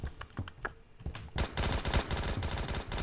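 Rapid gunfire crackles from the Roblox shooter game Phantom Forces, a few scattered shots at first, then a dense, continuous automatic burst, fairly quiet with no talk over it.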